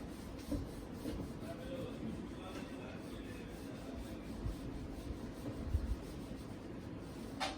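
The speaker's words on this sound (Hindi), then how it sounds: "मैं एक बार रब कर देती हूँ" A teacher wipes a classroom board with an eraser, a faint, continuous scratchy rubbing with small scuffs, heard quietly in a calm room.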